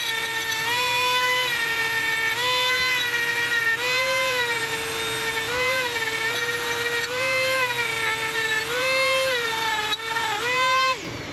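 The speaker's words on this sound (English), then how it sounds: "I'm going to take my Dremel, clean this up a little bit" A Dremel rotary tool whines steadily while cleaning up a rusted pin from an old Honda Recon ATV, its pitch dipping and recovering repeatedly as it bears down on the metal, close and continuous with no talk.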